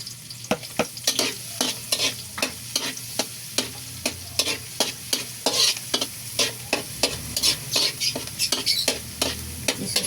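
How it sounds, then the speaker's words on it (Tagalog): Garlic sautéing in a pan for chicken caldereta: a steady oil sizzle broken by regular, sharp scrapes of a spatula stirring, close up and with no talking. "magigisa na po tayo ng bawang"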